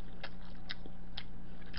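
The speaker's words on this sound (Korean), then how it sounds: "요거는 간장에 새우젓에 찍어 먹을게요." Fried pollock pancake being eaten after a dip in soy sauce, heard as several crisp, separate bites and crunchy chews close to the mic over a faint steady background hum.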